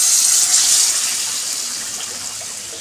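A little water pours into fried masala in a pan for a fish curry, a short steady hissing splash that fades slightly over a few seconds, close and alone.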